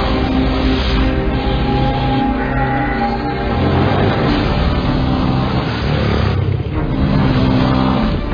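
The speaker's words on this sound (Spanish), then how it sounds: "Onda te presenta XR250 Tornado, una moto todoterreno diseñada para afrontar cualquier terreno y cualquier situación" An Onda XR250 Tornado off-road motorcycle engine roars loudly and continuously, with its revs rising and falling across the whole stretch and no voices over it.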